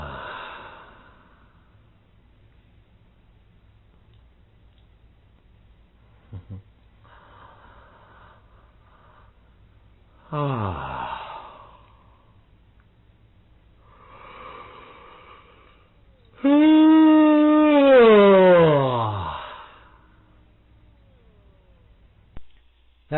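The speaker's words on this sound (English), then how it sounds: "That was a yawn, 2 breaths," A person yawns, pauses while breathing softly twice, then gives a long, loud, drawn-out second yawn, all close and alone in a quiet room.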